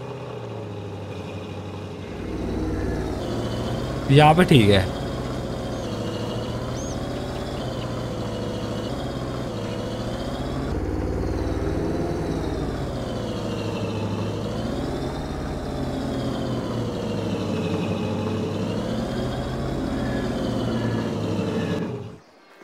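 A vehicle engine in Farming Simulator 22 hums steadily as it is driven, its pitch rising and falling with throttle, accompanied by a brief rattling clunk early on and a short spoken phrase.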